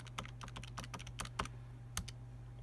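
Fingers tapping values into a calculator, a steady string of quick plastic key clicks at irregular rhythm, close and soft over a low electrical hum, with no talk.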